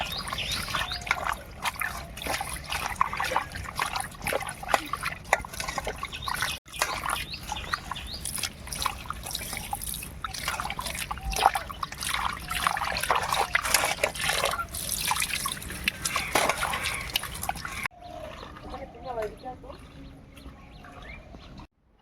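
Bhetki fish belly pieces are washed by hand in water, with splashing, trickling and sloshing close by for most of the time before it drops to quiet.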